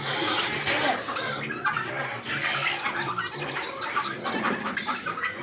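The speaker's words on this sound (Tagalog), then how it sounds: "Yan yung mga ducklings sa backyard" Several backyard ducklings at feeding time make busy, overlapping peeping and quacking chatter, close and lively with constant clustered calls.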